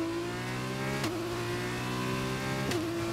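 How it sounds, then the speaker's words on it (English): An F1 2021 race car engine howls at a high, steady pitch against the rev limiter, with two brief stutters as gears change, loud and continuous with no talking. "we are hitting the rev limiter on that"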